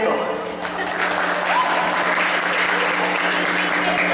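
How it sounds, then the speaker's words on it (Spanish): Audience applause at a youth pageant opening, a dense, steady wash of clapping throughout, with a voice talking over it. "Brindemos fuertes aplausos para el joven Jorge Cruz, quien es el patrocinador de este grandioso evento."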